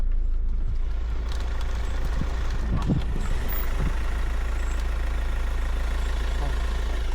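Steady, loud low-pitched engine rumble from a Mahindra Scorpio S5 crawling off-road through potholes, with a few knocks and jolts midway and no clear talk.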